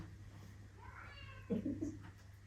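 A house cat meows a few times in short, close calls over a low steady hum, with a quiet voice murmuring beforehand.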